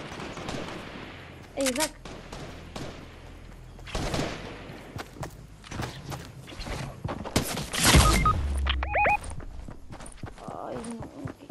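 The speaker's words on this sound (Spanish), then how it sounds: "me está disparando otro encima" Video game gunfire comes in scattered sharp shots and rapid bursts, mixed with footsteps and clattering effects, while players talk over it.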